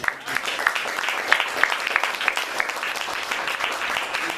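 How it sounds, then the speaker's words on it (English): Applause from an audience for Glenn at a Brooklyn Young Republican Club holiday gathering, a dense, steady patter of many hands with a few sharper claps standing out, sustained at moderate distance. "Give Glenn a round of applause"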